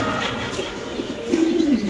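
A male Spanish black checker pigeon coos once in a short, soft, rolling call near the end, set against a steady low background murmur.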